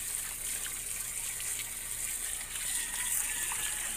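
Water rushes and splashes in a small basin as a steady, continuous hiss and gush heard up close, with no talking over it.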